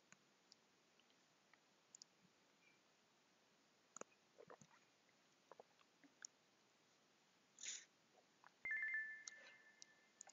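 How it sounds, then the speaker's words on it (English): An app's new-message notification chimes once near the end, a short tonal alert following scattered faint clicks and taps in an otherwise quiet room. "So you get a notification if you have a new message."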